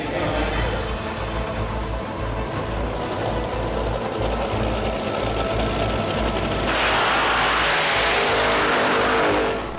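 A drag racing car revving hard while warming up its tyres, a loud, sustained roaring engine that surges and rises in pitch toward the end.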